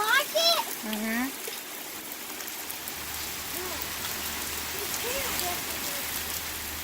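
Steady rain shower falling just after a hail storm in central Pennsylvania, a dense even patter of drops continuing throughout, with a voice speaking briefly at the start over it.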